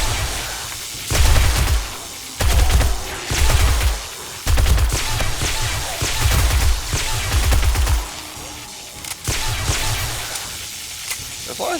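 Shotgun fire in 7 Days to Die, with heavy booming blasts going off about every second, loud and close, and a dense layer of game noise filling the gaps.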